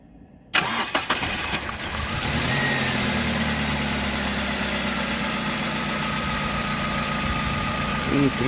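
A car engine cranks and catches during a battery test, then settles into a steady, close idle that continues to the end.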